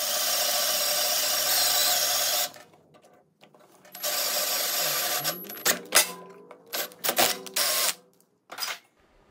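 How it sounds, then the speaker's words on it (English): A power drill whines steadily for about two seconds while drilling a 1/8 inch pilot hole in metal, then stops, followed by scattered clunks, scrapes and short bursts of tool noise. "I started off by drilling a 1/8 inch pilot"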